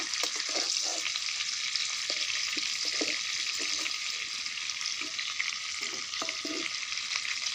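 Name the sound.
fish frying in mustard oil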